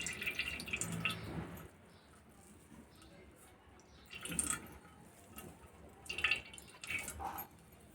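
Ground ragi liquid poured and strained through a cloth, with wet splashing and dripping in bursts separated by quieter stretches, close by and fairly faint, with some low speech in the background.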